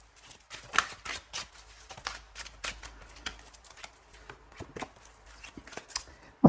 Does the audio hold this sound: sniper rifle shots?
no